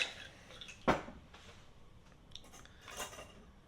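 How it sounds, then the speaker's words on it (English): Ice is added to an Earl Grey tea Manhattan cocktail made with bourbon: one sharp clatter of cubes dropping into a glass, followed by faint clinks and a softer rattle a couple of seconds later. "We're going to add some ice."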